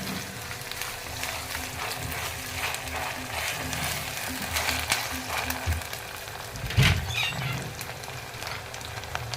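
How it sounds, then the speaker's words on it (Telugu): Ginger garlic paste fries in a pan for broccoli kurma, a soft steady sizzle with occasional clinks and one sharper knock near the end. "ఇప్పుడు ఒక ఒకటిన్నర స్పూను అల్లం వెల్లుల్లి పేస్ట్ వేసుకుంటానండి దాన్ని కొంచెం వేగనిస్తాం"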